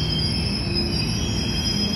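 An electric KRL commuter train of 12 cars arrives at Cikini station, its wheels squealing loudly and steadily over a low rumble throughout.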